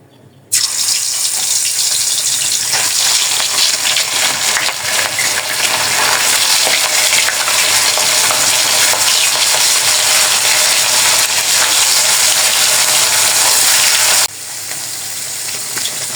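Puti fish coated in turmeric and chili frying in hot oil gives a loud, steady, dense hiss that holds for about fourteen seconds, then drops to a softer crackle.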